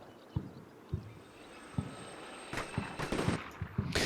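Machine gun team in Combat Mission Shock Force 2 firing into a nearby building, heard as scattered distant single shots at first, building to denser, louder bursts toward the end.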